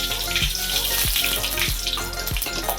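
Mustard seeds hit hot oil in a pan for tomato tokku, a dense close sizzle with rhythmic clinks of a spoon or pan roughly every half second, no talking.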